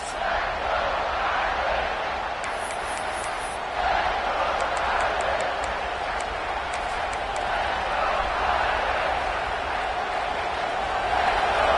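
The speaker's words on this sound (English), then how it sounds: "Listen to this crowd just shaking the girders of this place" A large crowd roars in a big stadium during a football game, a continuous wall of cheering and noise with faint whistles cutting through.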